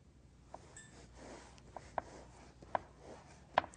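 A serrated knife saws through a cake layer in quiet, soft rasping strokes, punctuated by a few faint sharp ticks, with no voices.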